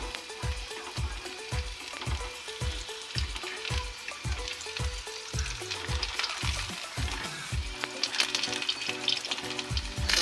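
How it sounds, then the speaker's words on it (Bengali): Street-style chicken momos fry in a pan over lowered heat, giving a steady close sizzle punctuated by a regular rhythm of soft knocks and stirring sounds throughout. "এবার এটাকে ভালো করে আমরা ফ্রাই করে নিচ্ছি।"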